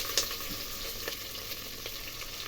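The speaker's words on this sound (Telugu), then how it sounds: "ఉల్లిపాయ పచ్చి వాసన పోయేంత వరకు వేయించుకోవాలి." Chopped onions and green chillies sizzle steadily in hot oil in a pan with bay leaf and star anise while making gongura pulao, a soft continuous frying hiss with faint stirring clicks, no talk.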